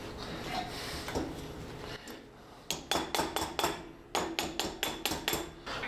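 A hammer taps lightly on a Jeep axle part, fitting full-size axles to a small Suzuki Amigo. After some low rustling come two quick bursts of close, sharp metallic taps, about five or six in each run, with no talking.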